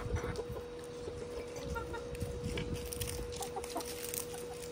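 Chickens clucking in a family yard where poultry are raised, soft and fairly distant, with scattered calls over a steady background hum and rustle throughout.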